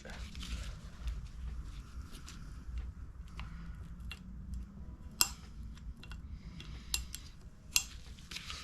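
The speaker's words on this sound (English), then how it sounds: "now what we need to do is pop off that circlip in there" A few sharp metallic clicks and snaps from prying a circlip off a Triumph Tiger 1050 front fork, spaced apart over a low steady workshop hum, with no talking.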